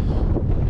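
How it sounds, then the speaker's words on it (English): Wind gusting across an open mountain bowl in the Mourne Mountains, a brief loud rumbling buffet against the microphone. "Wind blowing in, that's blowing into this big bowl."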